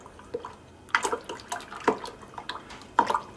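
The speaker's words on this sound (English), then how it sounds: "Then add 1 cup of boiling or boiled water." Boiling water poured into a bowl while making homemade fruit jello cups, heard as a series of close, irregular splashes and drips over a few seconds with no talking.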